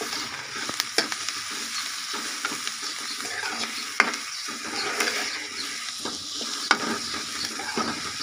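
Grated carrots sizzling in a frying pan, a close steady hiss and crackle with soft stirring scrapes and a few sharp clicks of a utensil against the pan, no voices.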